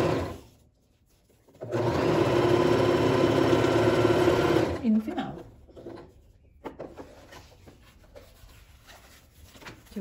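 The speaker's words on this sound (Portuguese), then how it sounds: "Dá um retrocesso no início e vem costurando." A sewing machine runs a seam in synthetic fabric in one steady, loud burst of about three seconds after a backstitch. Quiet handling noises from the cloth follow.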